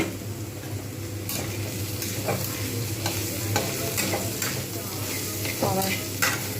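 Ivy gourd sizzles steadily in a hot pan while a spatula scrapes and stirs at irregular intervals, close and continuous.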